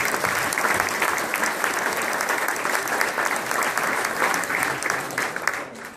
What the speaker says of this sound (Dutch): In ieder geval een applaus voor deze genomineerden.